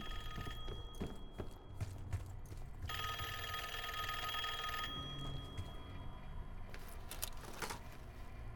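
An old-style telephone bell rings in bursts in the Call of Duty: Black Ops 6 campaign, loud and close over a steady ambient game background with footstep-like clatter.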